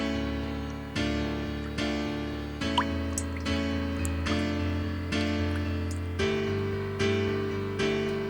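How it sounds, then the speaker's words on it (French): Water drips from a small fountain with slow, steady, resonant plinks about once a second. A low sustained hum sits beneath the drips, and there is no talking. "Un bruit aquatique se fit entendre."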